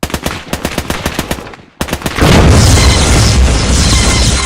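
Video game battle with rapid machine-gun bursts that stop, followed by a loud blast as a light tank explodes, leaving a long heavy roar of debris and rumble.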